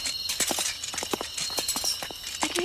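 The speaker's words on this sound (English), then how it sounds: "I can hear our footsteps in the night." Footsteps at night in the video game Steam Prison, a series of crisp, evenly paced clopping steps under a steady high-pitched ambient tone, with no talking.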